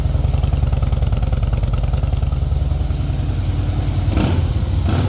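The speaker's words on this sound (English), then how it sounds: "real deep sound. It's a Harley, as you know." A 2008 Harley-Davidson Fat Boy idles with a deep, steady, loping engine rumble heard close up and alone, ending in a short louder burst near the end.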